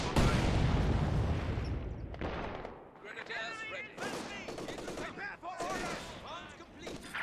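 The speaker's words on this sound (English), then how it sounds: "MG42 mounted." Mounted MG42 machine gun bursts in a strategy video game, a dense opening stretch of rapid fire giving way to scattered shots, with a voice talking over the later part.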